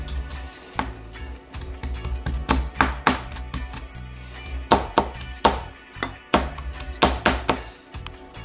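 Back of a knife mashing fish and pineapple for Jamaican brown stew on a cutting board, a series of irregular dull thumps and taps, close and fairly loud, growing more rhythmic toward the end.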